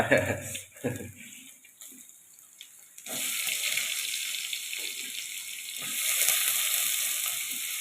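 Two green chillies frying in a pan at home, a steady close sizzle that rises midway and continues alone, after a quieter opening with brief clatter.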